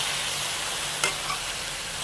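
Banana flower, cowpeas, grated coconut and a little turmeric are stirred in a hot pan, giving a steady sizzle with one brief scrape of the spoon partway through, no voices.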